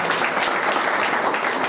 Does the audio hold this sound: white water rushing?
no